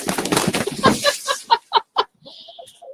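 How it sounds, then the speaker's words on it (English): Chickens at a backyard coop cluck in short, sharp bursts with some wing flapping, fairly close and loud, after a person talks excitedly at the start. "A little chicken craziness around here."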